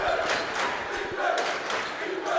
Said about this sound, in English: you hear the cry of defense from the Jackson Christian crowd